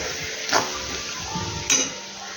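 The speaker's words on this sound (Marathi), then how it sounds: "त्या मंद गॅसवर आपण ह्याला परतून घेऊ" Masala paste sautés in a pan over a low gas flame for paneer butter masala, a soft steady sizzle broken by two brief scraping stirs.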